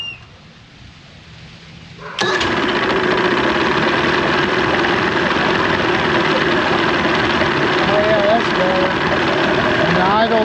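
A Johnson 115hp outboard motor starts and settles into a steady idle with its airbox fitted, a loud continuous close-up drone after a quiet start, with someone talking briefly over it.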